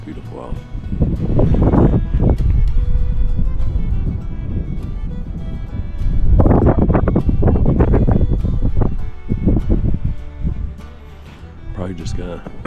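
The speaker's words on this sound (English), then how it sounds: "it's starting to get windy" Gusty wind buffeting the microphone in loud rumbling bursts that rise and fall over several seconds, outdoors in Washington State.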